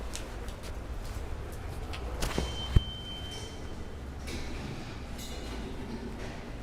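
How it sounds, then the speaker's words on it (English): A New York City N subway train at 18th Avenue Station in Brooklyn, heard as a steady low rail rumble with clattering wagons, a few sharp clanks near the middle and a faint high tone, with no talking. "And now we are going to take the subway. The N train at 18th Avenue Station to 8th Avenue"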